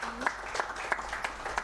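Audience applause after a speaker introduction at a public panel event, a brief patter of scattered claps with a few sharper hand hits repeating at a quick, fairly even pace, moderately faint and short.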